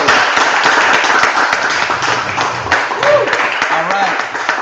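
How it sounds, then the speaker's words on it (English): Audience applause after a spoken-word poetry performance at a school senior final presentation, a dense wash of clapping filling the room with scattered voices underneath, steady throughout. "You're getting some claps."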